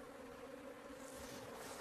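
Honey bees hum at their hives, a continuous, even buzz with no voices that stays at a constant low level and brightens slightly toward the end.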